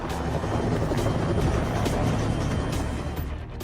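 A helicopter flies overhead, its rotor giving a steady, loud whump and roar for the whole few seconds and easing slightly toward the end, with no voices.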